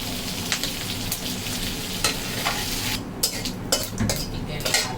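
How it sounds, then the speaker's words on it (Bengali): Roe-filled Gulsha fish frying in hot oil, a steady crackling sizzle broken by sharp spatters and a few utensil clinks, close and moderately loud with no talking. "এই গুলটা মাছ কিন্তু ডিমওয়ালা মাছ যেগুলো একটু ছিটে সাবধানে ভাজতে হবে"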